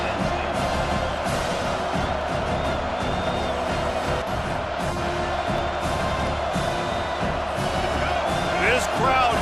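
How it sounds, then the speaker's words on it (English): Steady stadium crowd roar and cheering from a College Football 25 game, a dense continuous wash filling the whole stretch with swells of noise, a play-by-play commentator talking over it throughout. "This crowd knows when to bring it."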